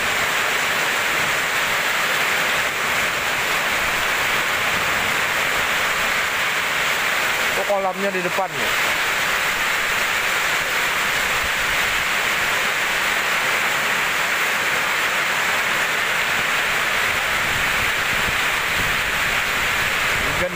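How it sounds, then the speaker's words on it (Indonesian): Heavy storm rain pours steadily and loudly throughout, a dense, unbroken roar; a person briefly speaks partway through. "Hujan lebat, tunggu hujan reda dulu kita."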